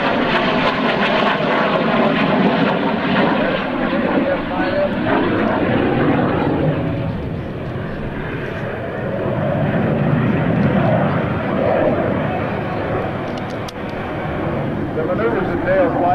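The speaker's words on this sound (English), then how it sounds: "This was the Air Force's first successful swept-wing fighter." A swept-wing jet fighter flies at the 2001 NAES Lakehurst airshow, its engine roar rising and falling steadily in the distance while a commentator talks over it.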